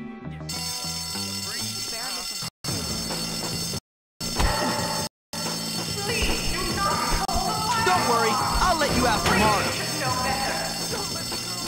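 A fire alarm in the video game Bully rings continuously with a steady metallic tone, broken by brief dropouts, while people talk over it.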